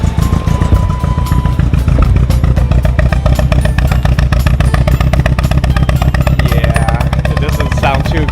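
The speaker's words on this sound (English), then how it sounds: "I mean, it still runs, but it sounds like a Subaru right now" A damaged Toyota 86 engine runs with a rough, Subaru-like clatter, producing a loud, continuous, rapid mechanical rattle and thumping throughout.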